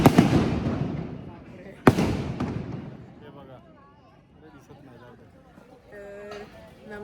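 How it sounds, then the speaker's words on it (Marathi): Firecrackers go off at a Gudi Padwa pre-celebration outside a Ganpati temple in Dombivli, with two sharp, loud bursts trailing into crackling decay, then a quieter stretch where people talk in the background. "फटाक्यांच्या आतिषबाजीसोबत नववर्षाचे स्वागत केले जाते."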